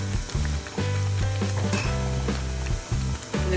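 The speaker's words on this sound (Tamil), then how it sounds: "மிக்ஸி அரைமின தண்ணி இருக்கு இல்லையா, அதுவே அதில் ஊற்றிடுங்க வேஸ்ட் பண்ணாமல்." Leftover blender water is poured into a sizzling chana masala gravy for a Chennai street-style dish, giving loud, close frying hiss with stirring scrapes that pulse in short bursts.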